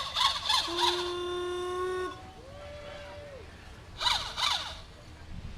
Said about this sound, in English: A wind-up horn.